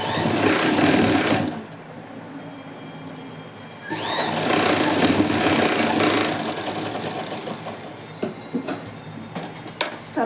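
A sewing machine stitches folded, gathered fabric in loud, close whirring runs. A short burst is followed by a brief lull, then a longer steady run that slows and stutters into clicks.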